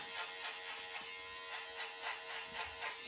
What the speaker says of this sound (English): when you're working with the trimmers